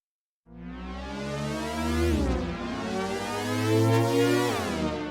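A synth pad starts after a brief silence, its pitch envelope set to 10 semitones sweeping the tone in a bending glide, sustaining smoothly and steadily louder.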